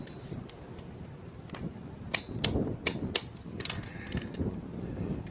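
A wrench works on 18 mm bolts during a CVT transmission replacement on a 2011-2015 Nissan Rogue, giving sparse metallic clicks and ratcheting taps that build into a cluster of sharper knocks toward the middle.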